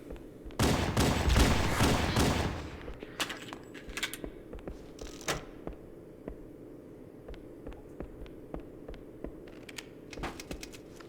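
Gunfire in Halo: Combat Evolved: a dense, loud burst of rapid shots at the start, then scattered single and double crackling shots and impacts over a quieter game background.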